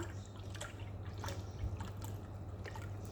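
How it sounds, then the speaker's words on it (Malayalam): A cup of milk pours into beaten eggs in a bowl while a coconut sweet is being prepared. A faint, continuous liquid trickle comes with a few soft drips, and no one talks. "ഇതാ ഒരു കപ്പ് പാലും കൂടി ഞാൻ അതിനകത്തോട്ട് ആഡ് ചെയ്ത് കൊടുത്തു"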